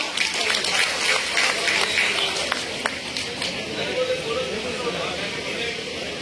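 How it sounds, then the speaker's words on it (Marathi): A crowd applauds to welcome winning candidates at a felicitation event in Bhandara/Gondia, with dense, steady clapping that fills the scene while a voice talks over it. "सगळ्यांनी टाळ्या वाजून स्वागत करा।"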